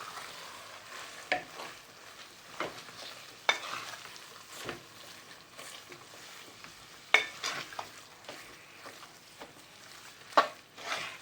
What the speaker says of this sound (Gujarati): બધાને મિક્સ કરી દેવાનું.